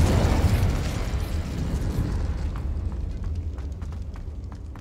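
A Confringo blasting curse explodes in the Hogwarts Legacy video game, a loud booming burst at the start that rumbles and slowly fades over several seconds.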